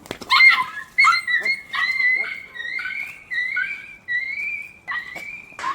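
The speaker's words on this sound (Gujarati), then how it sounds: "જો કૂતરું" A dog near a hilltop temple by a cremation ground gives a run of high, drawn-out yelping and whining calls, loud and close, repeating about every half second with short gaps.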